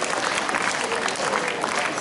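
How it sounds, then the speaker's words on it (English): A school farewell function audience applauding, broad continuous clapping filling the hall at a steady level, with a voice faintly under it. "So the applause is becoming softer."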